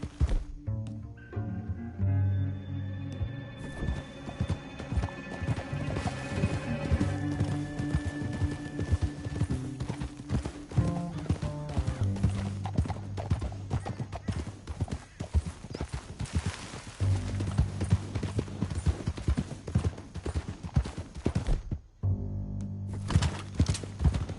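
In Red Dead Redemption 2, rhythmic clip-clop of horse hooves trotting steadily, close and clear, with a brief whinny and music-like tones running underneath.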